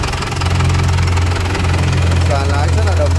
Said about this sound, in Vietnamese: Đó, máy nổ giòn, máy móc khô ráo sạch sẽ.